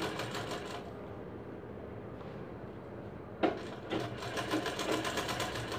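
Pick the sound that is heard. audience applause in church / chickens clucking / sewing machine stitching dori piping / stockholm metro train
sewing machine stitching dori piping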